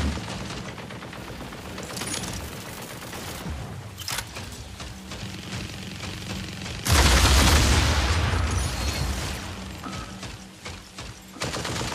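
Mechs in the Mech Arena mobile online game trade heavy gunfire, with dense rapid bursts throughout and a louder, booming barrage midway before settling back into steady shooting.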